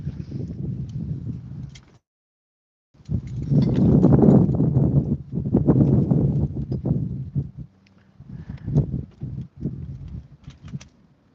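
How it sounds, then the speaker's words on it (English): Hooves clip-clop on a hard surface in bursts of steady walking rhythm, separated by brief pauses, fairly close. "Nicholas, I'm glad you love horses."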